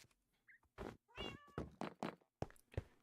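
A cat meows several times in quick succession, close and clear, with short separate cries and brief quiet gaps between them.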